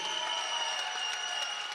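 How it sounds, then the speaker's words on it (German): Crowd applause at an MMA event as a fighter is introduced, a faint, steady wash of clapping and crowd noise with tonal arena sound running through it. "Ihr Applaus"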